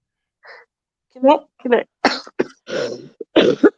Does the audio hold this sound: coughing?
yes